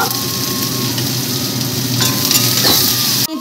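Garlic and taro stolons frying in a pan, a steady close sizzle with faint stirring scrapes running throughout, ending in a brief clatter.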